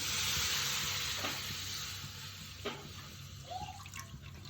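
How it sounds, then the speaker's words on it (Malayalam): Water goes into a hot pan on the stove and sends up a loud, steady hiss that slowly eases, with a few soft splashes and drips near the end. "ചട്ടി ചൂടായി കുറച്ച് വെള്ളം ഒഴിക്കാം."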